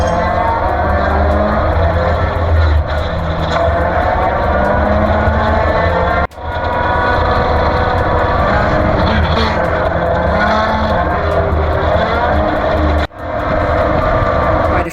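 A vintage race car at Willow Springs races while chasing a Turner Mark III. Its engine drones loudly and continuously from inside the car, rising and falling in pitch, with two brief sharp dips as it shifts gears.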